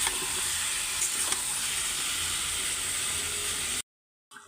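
Curry with spices sautés in oil in a pan, producing a steady, moderately loud hissing sizzle that runs unbroken for several seconds and then cuts off abruptly into silence, with no voices.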